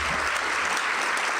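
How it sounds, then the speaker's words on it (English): A crowd claps steadily and loudly, a dense wash of applause that fills the whole moment without letting up. "can we just give one more round of applause to Joel McHale?"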